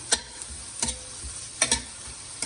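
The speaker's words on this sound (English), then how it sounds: "Adding in capsicum." Chopped capsicum sizzles in a hot pan while a spoon stirs it, a soft steady frying hiss broken by three or four clear scraping stir strokes close up.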